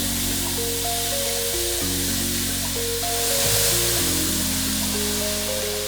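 Water poured into a hot cast iron skillet, a steady broad hiss of steam and sizzle running throughout, loud and close, with no talk.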